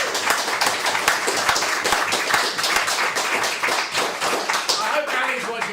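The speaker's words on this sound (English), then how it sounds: "I feel a round of applause is due" A club audience claps together in a room, producing a busy patter of sharp, distinct hand claps that runs steadily throughout, with voices talking over and around the clapping.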